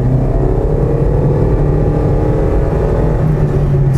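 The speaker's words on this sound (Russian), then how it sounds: "вариатор, он начинает прям" A car with a CVT transmission under acceleration, heard from inside as a loud, steady droning engine with a sustained whine, holding an even pitch without gear shifts.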